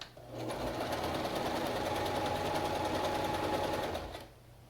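A sewing machine stitches wire into the edge of fabric face masks, a close, steady whirring rattle that starts up, runs evenly for about four seconds, then winds down and stops.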